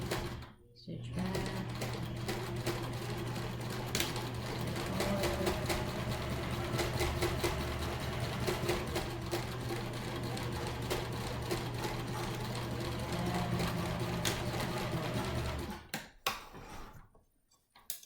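A sewing machine stitches a fabric face mask, giving a steady, close mechanical whir with rapid needle clatter for about fifteen seconds before stopping abruptly, followed by a few handling clicks.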